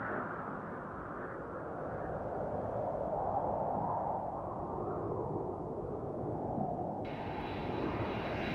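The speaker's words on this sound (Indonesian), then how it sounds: "Tiba-tiba terdengar suara pesawat terbang." A cartoon airplane drones past with a steady, low engine rumble that holds at an even level throughout, joined near the end by a thin, high whine layered on top.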